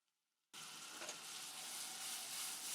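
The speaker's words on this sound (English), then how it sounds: "we'll cook them for a couple minutes until they're nice and translucent and soft" Chopped onions hit hot butter and oil in a pan and burst into a loud, steady sizzle after a brief silence, frying continuously and close by.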